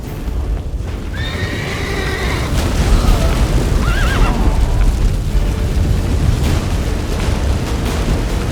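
A horse whinnies loudly twice in The Witcher 3: Wild Hunt over a continuous heavy rumble with low booms, no talking.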